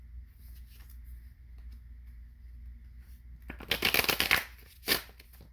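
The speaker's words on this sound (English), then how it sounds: "now let me shuffle this deck" Cards from a tarot deck are shuffled in a quiet room, a faint hum under the first few seconds, then a burst of quick riffling flutters followed by a short final slap of cards.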